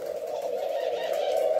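Thai pigeons, a pair of large breeding birds, coo in a steady low continuous drone held close and even throughout.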